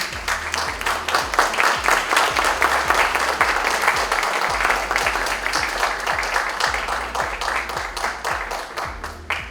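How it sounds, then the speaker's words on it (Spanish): An audience at a science and journalism conference gives Dr. Modesto Montoya a strong round of applause. Dense, even clapping with a low rhythmic thumping beneath it runs steadily for several seconds. "para quien pido un fuerte aplauso"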